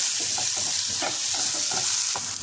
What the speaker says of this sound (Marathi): आपण बारीक चिरलेला टोमॅटोसुद्धा तेलावर परतून घेणार आहोत